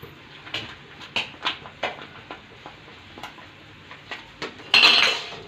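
Intermittent metallic scrapes and clinks of a utensil against a pan while stirring hakka noodles with chilli sauce, irregular strokes close by, ending in a louder sizzling burst.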